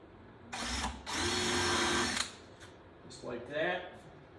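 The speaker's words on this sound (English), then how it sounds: "I am going to run a little screw in here, and I got a countersink bit and just a 3/4 inch screw" A power drill fitted with a countersink bit drives a 3/4 inch screw into a wooden paddle board's paulownia rail, whirring close in two short bursts, followed by a brief spoken remark.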